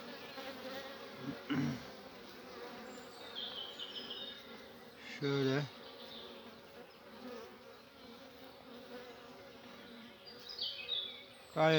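Honeybees hum at a partitioned beehive during a June beekeeping check, a continuous buzz of many insects broken by a few brief louder handling knocks and close passing buzzes.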